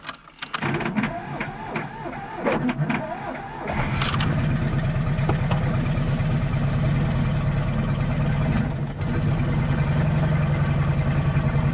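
Car engine cranking after a long standstill, stumbling briefly before catching, then settling into a steady, loud idle that runs close by for the rest of the clip, with some handling noise early on.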